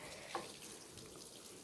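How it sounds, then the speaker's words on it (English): Heavy rain mixed with falling ice: a constant faint hiss of water pouring steadily, like a running tap, with no voices. "it was raining so fast"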